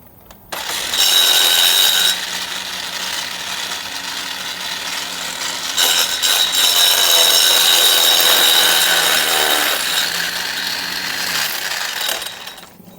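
Cordless lawn edger running in a yard, a steady high-pitched motor whine that starts abruptly, dips briefly around the middle, then resumes loud and close before cutting off near the end.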